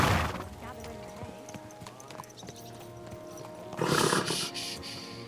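Horse hooves in Kingdom Come Deliverance 2 clip-clopping at a steady walking rhythm, close by, with a louder burst of movement near the end and game speech over it.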